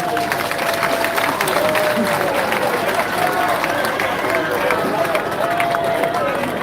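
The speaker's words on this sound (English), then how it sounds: "Let's clap for all the candidates for Kawempe North. Please clap louder." Seated audience at a Kawempe North candidates' debate in Uganda clapping steadily and loudly throughout, a dense sustained round of applause with a voice speaking over it.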